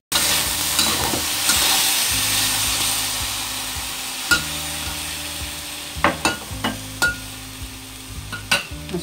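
Sponge gourd and squid stir-fry in a pan after water is added, giving a soft sizzle that fades under a low hum while sharp spatula clinks and scrapes grow more frequent toward the end.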